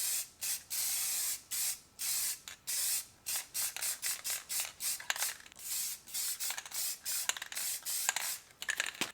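An aerosol can sprays red enamel onto brake calipers in a long series of short bursts, close and crisp, with brief silent gaps between each hiss.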